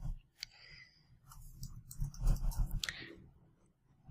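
Keys tapped on a computer keyboard while a terminal command is entered, a few quiet scattered clicks followed by a short denser burst of typing.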